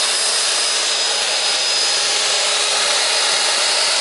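Power saw cutting wood, a loud steady whine up close and alone without pause.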